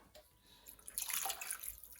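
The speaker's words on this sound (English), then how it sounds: "I'm actually gonna go in with another 2 canfuls of water." Water poured into a pot of oxtail cooking down for pelau, a short splashing pour that builds and fills in about halfway through, fairly close and moderately loud with no talking.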